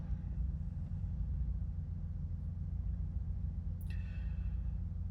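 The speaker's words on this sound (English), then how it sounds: "Straight into a smooth idle." Audi Q7 3.0 TDI quattro S Line diesel settling into a smooth cold idle, a steady low rumble alone and close, with a brief higher tick near the end.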